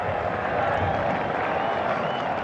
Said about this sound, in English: Relieved roar from the crowd.